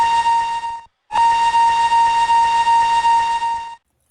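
A steam engine's whistle blows loud and close: a short blast, a brief gap, then a long steady shrill tone that cuts off cleanly.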